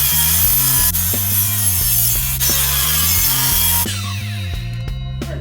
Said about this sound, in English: I got most of the waste cut as far as I can with the miter saw into the maple log